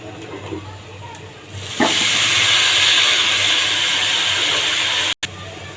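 Fresh leafy greens drop into a hot pan of fried coconut with a pinch of turmeric and burst into a loud, steady sizzle that keeps hissing close by without letup after a quieter start.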